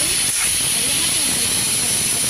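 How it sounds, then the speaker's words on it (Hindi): A pressure cooker lets off a loud, steady steam hiss with a sharp high whistle tone, continuous throughout while cooking sambar in a home kitchen. "तो यहाँ पे सीटी निकल गई, कुकर ठंडा हो गया।"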